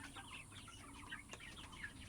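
Sonali chickens on a poultry farm cluck steadily while eating feed, a busy flock chorus of overlapping clucks, fairly faint over low background hum, with no talking.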